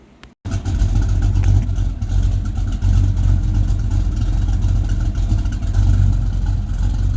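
A Ford Mustang's engine starts through new custom tailpipes and settles into a deep, steady idle rumble from the exhaust, loud and close, with slight revs, no voices.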